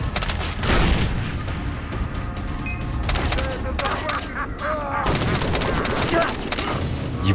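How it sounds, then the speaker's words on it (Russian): A machine gun crew in Far Cry 3 lets off loud bursts of automatic gunfire, with rapid cracks and booms coming in waves, while a voice talks over the shooting. "там пулеметный расчет, походу, сидит."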